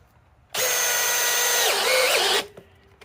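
A Flex compact hammer drill drives a sheet metal screw into roughly eighth-inch-thick metal: one loud, steady whirring burst of about two seconds whose pitch sags under load, then stops abruptly, with no talk.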